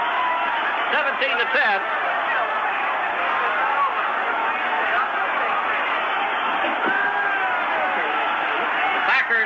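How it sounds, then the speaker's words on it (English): A packed stadium crowd roars without letup as fans storm the frozen field at the 1967 Ice Bowl football game between the Packers and their opponent, a dense, loud wall of cheering and chatter with a voice briefly calling out over it. "the crowd has gone wild and run on the field with 13 seconds left"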